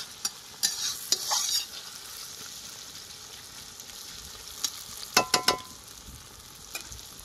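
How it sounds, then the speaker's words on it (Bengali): Onions and tomatoes fry in a pan, cooked outdoors in a garden for a mutton curry: a soft, low hiss broken by sharp bursts of spatter and crackle, with no voices. "আমাদের পেঁয়াজ এবং টমেটো পুরো ভেজে গেছে, মানে ভাজা হয়ে গেছে।"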